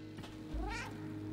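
A cat meows once in the game Stray, a single drawn-out mid-pitched meow over a steady background game hum.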